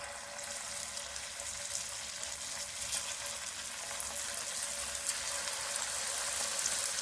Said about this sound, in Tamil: எண்ணெய் சூடாயிடுச்சு. இப்போ ஒன்று ஒன்றா சேர்த்துக்கலாம்.